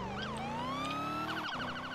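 An ambulance and fire engine siren wails in a rising, sustained tone, then breaks into a quicker warbling yelp, fairly close and loud, in a city park.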